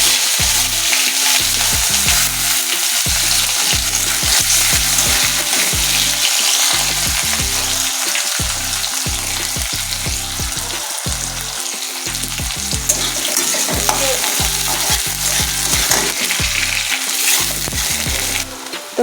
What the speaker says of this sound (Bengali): তো পেঁয়াজটা আমার ভাজা ভাজা হয়ে গেছে।